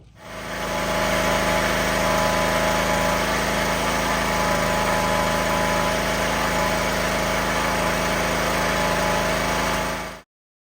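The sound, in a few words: small engine running after Hipa carburetor change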